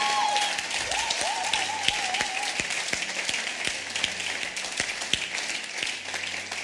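Scattered, fairly faint applause from a church congregation, a thin steady patter of hands with a few sharper individual claps standing out, fairly distant and subdued throughout.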